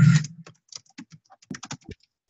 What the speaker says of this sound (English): I'm just typing this in the notes part.